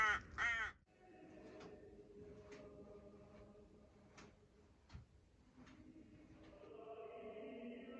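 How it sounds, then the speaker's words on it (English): Crows cawing loudly up close in an Australian outback opal-mining town, a sharp burst of harsh calls at the start followed by scattered, more distant caws and faint clicking over a quiet background. "Wow, the crows here are so annoying."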